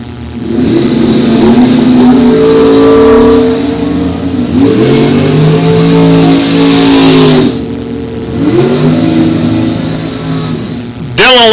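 A Chevrolet Monza and a Chevelle launch side by side at a bracket drag race, engines roaring loudly through repeated rising revs and gear changes, close and powerful, with faint announcer talk underneath.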